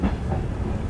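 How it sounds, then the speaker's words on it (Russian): A train pulls in at Agryz station, heard as a steady, loud, low rumble of rolling stock with faint wheel clatter throughout, no voices. "Вот сейчас оттуда поезд пришел,"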